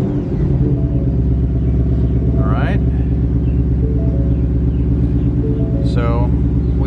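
A 2021 Ford Mustang Mach 1 engine idles with a steady, loud, low throb throughout, joined twice by brief higher chirping sounds.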